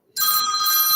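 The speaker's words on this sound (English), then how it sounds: "that ring sounds just like an old-fashioned phone" A phone rings with a bright, continuous electronic trill like an old-fashioned bell. It starts abruptly, is loud and close, and holds steady to the end.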